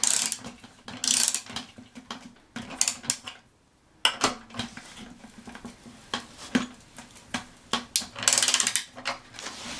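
A ratchet wrench tightening a nut on a cedar chair clicks in fast close bursts, pausing briefly before resuming with rapid ratcheting strokes, no speech heard.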